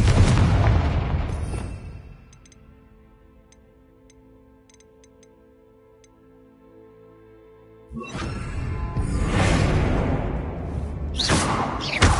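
A Confringo blasting-spell explosion in Hogwarts Legacy: a loud blast that fades into quiet ticking, then a second heavy burst rumbles back up and lingers to the end.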